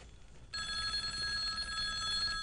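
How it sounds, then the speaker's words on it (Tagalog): A telephone starts ringing after a short quiet moment, a bright trilling ring that holds steadily for almost two seconds, clear and fairly loud in an indoor scene. "ang telepono. Dali mong ngarima."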